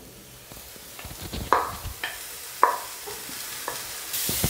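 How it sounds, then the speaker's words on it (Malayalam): Chopped beetroot tipped onto browned onions in a pan and stirred, with a low sizzle beneath several sharp spatula scrapes and knocks, spaced about a second apart, close and moderately loud. "ഇനി ഇതിലേക്ക് ചോപ്പ് ചെയ്ത് വെച്ചിരിക്കുന്ന ബീട്രൂട്ട് ഇട്ട് കൊടുക്കാം"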